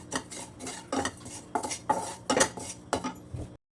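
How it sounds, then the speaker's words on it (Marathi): Dry spices and grated coconut with sesame and cumin tossed in a metal kadhai, a spatula scraping and clinking against the pan in repeated strokes, close and clear with no talking. "कढई ठेवलेली आहे यात खोबरं तीळ जिरे घालायचे भाजून घ्यायचं"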